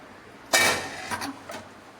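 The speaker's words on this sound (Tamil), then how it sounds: "இப்ப நல்லா கிண்டி விட்டுக்கலாம்." Spoon scraping and clinking against a cooking pot as food is stirred after salt is added, one sharp close clatter followed by a few softer scrapes, short and alone.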